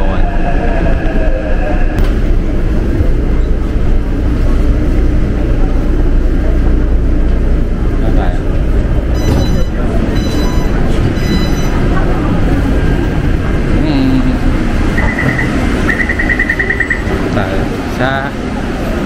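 Steady rumble of a moving train carriage in Taipei, Taiwan, a constant loud roar of wheels and motion with occasional faint chimes and beeps, with a voice speaking over it.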